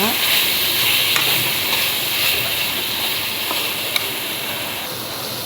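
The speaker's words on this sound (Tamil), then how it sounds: "இப்போ மசாலா போட்டு கிண்டியாச்சு" Liver sizzles steadily in a hot pan with masala, with a constant frying hiss and occasional scraping taps of stirring, no talking.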